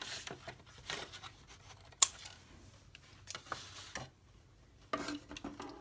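Scissors trim loose thread ends on a handmade paper-craft folio, giving a few sharp close snips with quiet handling rustles between them.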